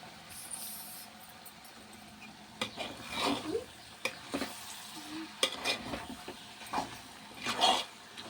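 Chicken vepudu masala fry stirred in a pan over a low flame, with soft sizzling beneath bursts of scraping and clinking from the spatula, close by and fairly quiet.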